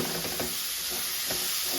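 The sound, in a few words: stirring carrot and capsicum frying in a pan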